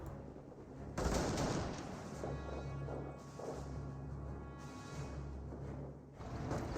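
Machine gun fire rattles in a Company of Heroes battle, a dense continuous clatter of rapid bursts amid other gunfire and rumbling, heard at moderate distance with no speech.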